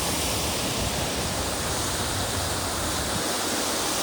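Rushing running water roars loud and steady without a break, a dense broadband wash heard close up.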